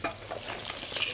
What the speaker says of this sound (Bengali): তেল দিয়ে দিয়েছি। এবার মাছগুলো ভেজে নেব।